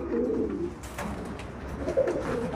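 Pigeons coo softly in a loft, two low throaty bursts a moment apart, close by and fairly quiet, with no talking.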